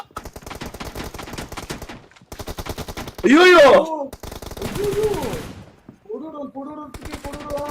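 Rapid bursts of automatic gunfire from a team deathmatch in a mobile shooter game, rattling in clustered volleys with short gaps, while players shout excitedly over the shots.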